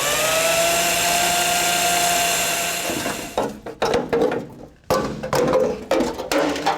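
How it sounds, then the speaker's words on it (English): A power drill whines steadily at high speed cutting out spot welds on a 1966 Ford Bronco body, then stops and restarts in short bursts with clunks of metal handling. "take a drill bit or a spot weld cutter and drill out each one of these spot welds"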